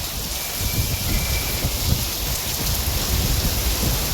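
Steady, heavy rain pours down in a dense, continuous hiss with a low rumbling undertone, filling the whole stretch with no voices.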